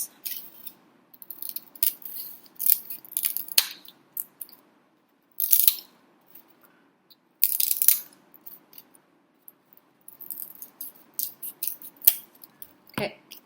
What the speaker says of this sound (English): I'm gonna do this with the scissors.